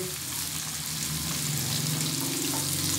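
Chopped onions and whole green chillies frying in a pan for gola kabab, a steady, continuous sizzle and crackle of hot oil that stays loud and even throughout with no talking.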